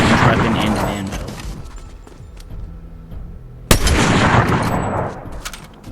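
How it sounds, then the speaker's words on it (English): Anvil launcher shots in a Fortnite Chapter 5 zero-build match, loud booming blasts with a sharp crack midway, surrounded by dense game noise. "he immediately shoots an anvil launcher at me"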